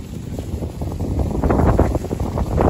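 Strong wind buffeting the microphone outdoors at a kite-flying session, a loud continuous roar with gusting swells throughout, no speech heard.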